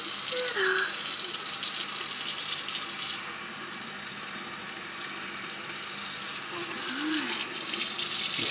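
Water runs steadily from a tap while a baby girl is rinsed off in her bath, a soft continuous splashing wash with a faint infant coo, moderately quiet and close.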